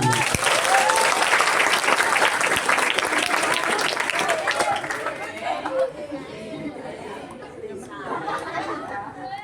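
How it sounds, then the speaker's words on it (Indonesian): A crowd of students claps loudly at a school Maulid Nabi religious lecture, the applause dense at first and then thinning, mixed with lively chatter and voices throughout. "Beri aplaus untuk dia."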